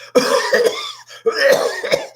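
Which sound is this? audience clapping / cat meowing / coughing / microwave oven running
coughing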